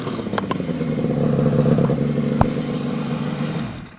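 A restored 1975 Kawasaki H1 500 two-stroke triple motorcycle is ridden, its engine droning steadily and loudly with a raspy buzz and a sharp click partway through, no voices present.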